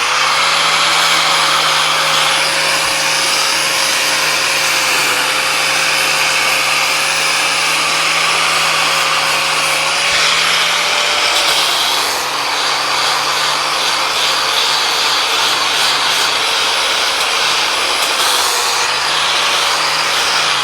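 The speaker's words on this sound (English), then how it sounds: "I'm just gonna sand this, probably just to make it look pretty." Power sander working a cut wooden tenon on a timber knee brace, running as a loud, steady whine that holds through the whole stretch with slight shifts in pitch as pressure changes, no talking.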